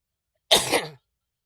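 One short, sharp human sneeze, close and alone against silence, lasting about half a second.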